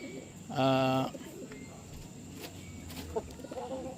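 A pigeon chick in a pigeon loft gives one short, clear, near call lasting about half a second, followed by quieter faint chirps and low background murmur.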